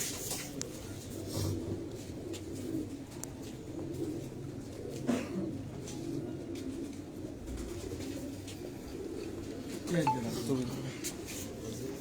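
A female pigeon coos in low, rolling bursts on a rooftop loft, under steady talk from nearby men, with a faint clink of dishes in the background.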